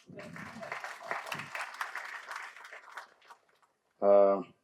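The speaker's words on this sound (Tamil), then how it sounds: "கைத்தட்டலாம்" Audience applause at a stage event for the Bottle Radha film trailer launch: a dense, steady wash of clapping mixed with voices that fades out, followed by a short, loud electronic tone.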